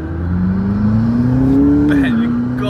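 A McLaren supercar on a test ride: the engine note climbs steadily under acceleration, with a rising turbo whine and a brief shift dip near the end, loud and close from inside the cabin.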